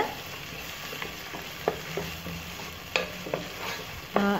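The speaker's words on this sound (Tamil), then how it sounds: "இஞ்சி பூண்டு பேஸ்ட்டையும் பச்சை மணம் இல்லாமல் இந்த ஆயிலோடு நல்லா ஃப்ரை பண்ணி எடுத்துடுவோம்" Ginger garlic paste frying steadily in hot oil for paneer pulao, a constant close sizzle broken by a few sharp clicks of a spoon stirring against the pan.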